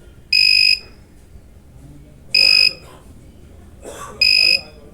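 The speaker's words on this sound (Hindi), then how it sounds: "ये पीसीबी आवाज़ करेगी और ये ओवरलोड पर चली जाती है" A Microtek inverter's overload alarm beeps three times in steady, high-pitched bursts about two seconds apart, with a faint hum and low background noise in between.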